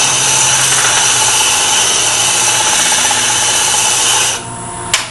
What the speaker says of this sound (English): So we'll sand.